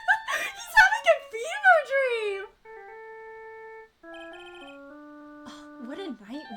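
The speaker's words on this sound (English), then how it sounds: "I bet it was this ringtone that caused it." An electronic phone ringtone plays in the video game Ace Attorney: Justice for All, a clear series of sustained synth tones following a stretch of emotive voice sounds.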